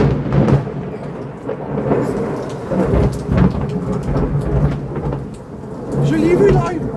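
A summer thunderstorm rumbles with rolling thunder over steady rain falling on surfaces, loud and close throughout, with people speaking French faintly underneath.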